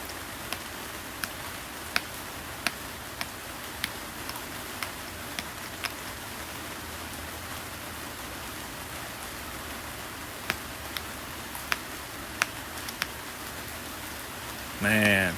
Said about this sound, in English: Man, I bet you guys can hear all this rain.